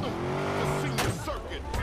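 In-game car driving in Watch Dogs, with engine tone gliding and shifting and a brief tire squeal around midway, held up close and steady under a muttered voice.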